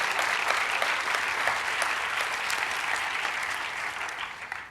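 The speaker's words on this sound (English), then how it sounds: "Don't clap for me, clap for yourselves." A lecture audience at NYU breaks into thick, steady applause that fills the room evenly before tapering off at the end.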